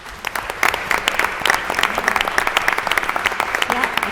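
Audience applauding at a board of education meeting, a steady patter of many hands clapping from a moderately close crowd, with some voices mixed in over the clapping.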